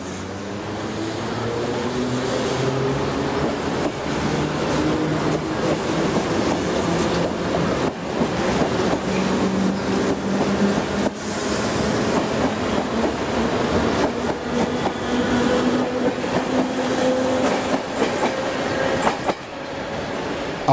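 An East Berlin S-Bahn train of the Stadtbahn type pulls into Alexanderplatz station under Reichsbahn operation, a loud, sustained rumble with rising and falling wheel and motor tones throughout, no talk.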